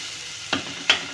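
Tomatoes and spices frying in a pan, with a soft steady sizzle and three short scraping stirs in quick succession, close and fairly quiet.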